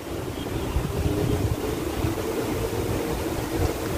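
Steady wind rushes and buffets the microphone outdoors in Taiwan, a continuous low roar with no other distinct sounds.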